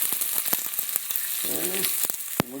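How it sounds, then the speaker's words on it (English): Steady crackling sizzle of rice frying in hot oil with garlic, onion and bell pepper, close and continuous, with sharp pops and a brief tonal squeak from stirring. "We're going to add the rice. We're going to fry that up."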